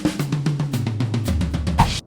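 A quick drum fill of rapid tom and snare hits descends in pitch across two seconds, ending on a crash cymbal, close and loud.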